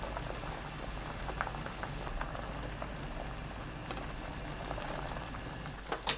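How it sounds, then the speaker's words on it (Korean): Burdock root boils in a pot of water, a steady, soft bubbling with faint clicks and pops from the pot throughout, no voices. "물이 끓으면 담가두었던 우엉을 체에 걸러 넣으세요. 그대로 6분 삶아줍니다."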